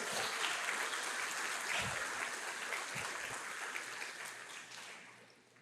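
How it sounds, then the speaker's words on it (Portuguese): Congregation applauding in church, steady dense clapping across the whole span that slowly fades toward the end, with a few low thumps underneath. "Aplaude Jesus bem forte, aleluia."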